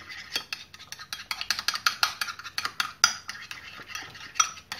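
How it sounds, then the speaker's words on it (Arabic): A spoon stirs a salad mixture with added milk, producing rapid, rhythmic clinks and scrapes in steady repeated strokes, fairly close and alone with no talk. "وغادي نطلقوها بشويه ديال الحليب. وكنحركو مزيان"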